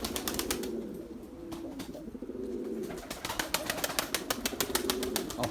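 Pigeons on a windy day, a burst of wing flapping and rapid claps as birds take off and settle, with soft cooing between, close and fairly quiet outdoors.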